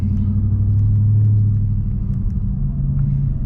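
Dodge Charger Hellcat sedan driving on the road, with a steady deep engine rumble and road noise heard from inside the cabin, loud and continuous, no talk.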